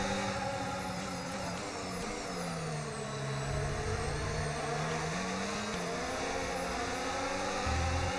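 Engine drone from F1 25 race cars accelerating off the line at the Sao Paulo sprint race start, the pitches climbing and shifting steadily at a moderate, fairly distant level.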